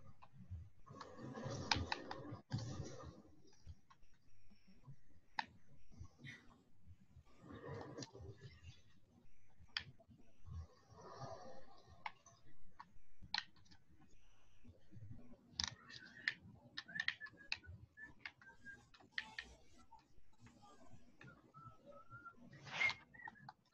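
Faint typing on a computer keyboard comes through during a quiz game, a scatter of soft irregular clicks and brief bursts of keystrokes over a quiet room.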